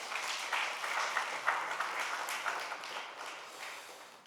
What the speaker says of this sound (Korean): 우리 박수 한번 쳐주겠습니다.